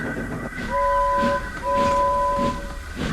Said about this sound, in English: when they heard an unfamiliar whistle